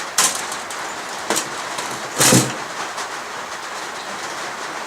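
Three sharp metallic clanks and rattles, spaced about a second apart, as the metal cover comes off a classic Cossor valve oscilloscope, with quiet hiss in between.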